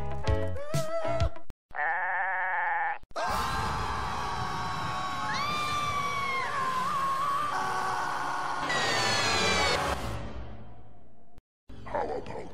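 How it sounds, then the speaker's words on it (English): Cartoon goat bleating amid a busy animated scene, loud wavering cries over dense music and crowd-like noise, with a few short bursts and cuts. "Goat and a pig."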